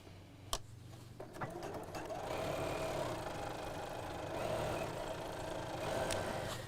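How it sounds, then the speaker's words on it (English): A home sewing machine top stitches around the edge of a cross body bag, a steady close whir with rapid needle pulsing after a few light handling clicks at the start. "top stitch all the way around the edge"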